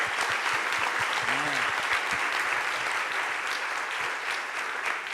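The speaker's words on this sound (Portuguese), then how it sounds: "Uma salva de palmas para o nosso Deus" A church congregation at a Sunday evening service breaks into sustained applause, dense and even from start to finish, with a short vocal exclamation rising briefly above the clapping.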